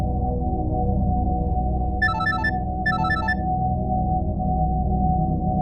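A telephone rings on a call being placed: two short bursts of trilling electronic ring tone, about a second apart, over a steady bed of background music.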